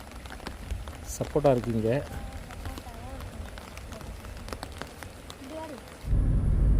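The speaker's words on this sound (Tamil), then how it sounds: "நான் வந்து மழையில் நனைஞ்சிட்டு தான் வீடியோ எடுத்துகிட்ருக்கேன்." Steady rain falls in a forest near a farm by Muthanga forest, a continuous wash of patter beneath a voice, swelling louder near the end.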